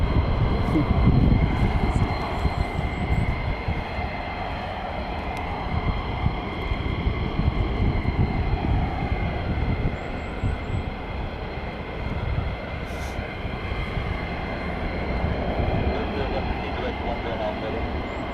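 F-35 fighter jets flying at RAF Lakenheath, a broad, sustained jet roar that swells early and holds as a steady rumble, with people occasionally talking nearby.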